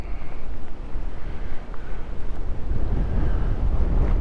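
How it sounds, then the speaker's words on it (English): Strong wind buffets the microphone on an exposed lakeside high point, a loud, steady low roar with gusty swells and no voices. "as you can tell, there is no shortage of wind"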